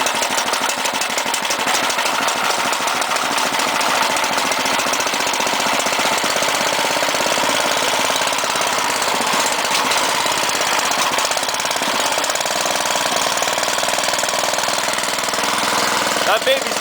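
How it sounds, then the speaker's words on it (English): A Toro 1028 Powershift snowblower's Tecumseh Snow King overhead-valve engine runs steadily after its first cold start in a long while, a loud, continuous mechanical roar with a rapid rattling beat that carries on throughout. "it's the first cold start since forever. It's the Toro 1028."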